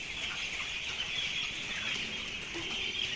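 A flock of 17-day-old broiler chickens fills a farm shed on a very cold day with a steady, dense murmur of clucking, even and continuous with no talk.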